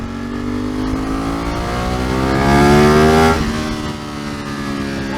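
A Ducati motorcycle rumbles loudly while being ridden through traffic, engine pitch climbing and swelling to a peak midway before easing off, steady and close with no talking.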